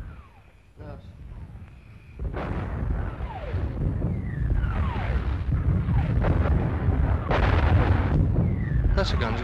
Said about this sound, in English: That's the guns of the Second Army.